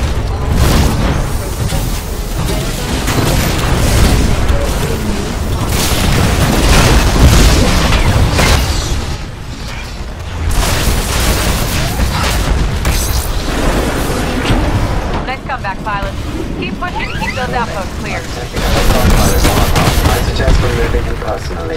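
Weapon fire and explosions from the Titanfall campaign, with dense, continuous rapid gunfire and booming blasts throughout, loud and close, with game voices over the battle.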